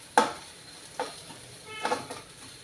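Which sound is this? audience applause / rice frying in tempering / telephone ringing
rice frying in tempering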